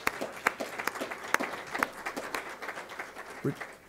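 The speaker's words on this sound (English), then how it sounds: "let's give them a round of applause" An audience applauds at a university opening ceremony for a graduate studies technology center, with dense, steady clapping throughout and faint voices underneath.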